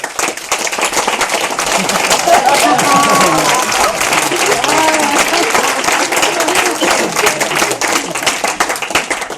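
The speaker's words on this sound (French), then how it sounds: "je vais vous demander de le recevoir, de l'applaudir comme il se doit" A theatre audience applauds and cheers loudly as Fred walks on stage at a French comedy show, a dense, sustained wall of clapping lasting several seconds with crowd voices mixed in.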